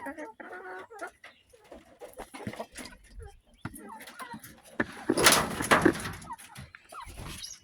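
Ameraucana and Rhode Island Red hens cluck and cackle in a farm pen, in uneven close bursts with a busier louder flurry near the end, with light rustling throughout.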